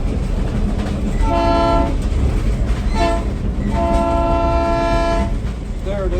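Train horn sounds in three long blasts, close and loud, over a constant rumble of rail cars on a vintage railroad ride heading to McEwen Depot.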